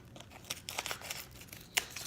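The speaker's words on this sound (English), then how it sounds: "Get my scissors and cut this open." Scissors snip and crinkle through the plastic wrap of a package of beef stew meat in a home kitchen, a few quiet irregular cuts and rustles close by, no talking.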